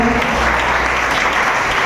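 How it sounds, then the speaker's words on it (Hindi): A church congregation claps loudly and continuously, a dense close roar of many hands filling the room. "जोरदार ताली करके इस गवाही के लिए"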